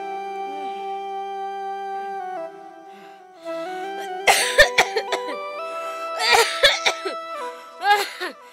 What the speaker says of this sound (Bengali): তোমার মা তো প্রতিদিনই এরকম কাশে, ওই আজকেও আবার কাশতেছে